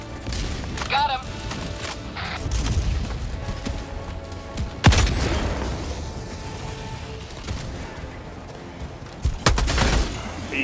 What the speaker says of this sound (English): Are you using the grenade launcher,